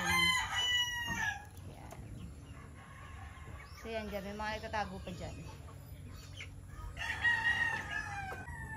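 Crowing and clucking from a flock of young farm chickens under three months old, repeated and fairly close, with someone talking over part of it and a lull in the middle before another loud call.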